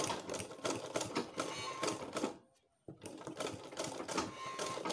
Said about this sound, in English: So you can see how I'm stitching it.